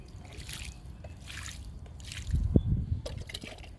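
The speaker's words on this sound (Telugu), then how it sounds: "వాటర్ ఇస్తున్నాను గులాబీకి" Water pours and trickles onto the soil and leaves of a Kashmir rose plant, soft splashing that swells briefly into a louder gush.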